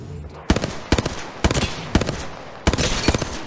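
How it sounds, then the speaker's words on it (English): Sniper fire in Apex Legends: several sharp, loud gunshot cracks in quick bursts, each followed by brief echoing tails, with short pauses between volleys. "I'm getting sniped at"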